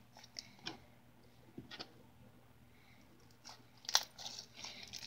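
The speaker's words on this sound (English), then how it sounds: "It did create a nice crunchy slime." Crunchy slime being squished and pressed, giving scattered soft crackles and crunches with quiet gaps between them and a louder snap of crinkling near the end, heard close up with no talking.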